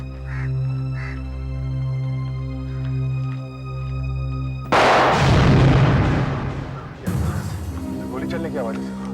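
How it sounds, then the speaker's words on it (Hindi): Two loud, sharp gunshots crack out about two seconds apart, breaking a low steady hum, each followed by a rough ringing decay. "गोली चलने की आवाज है।"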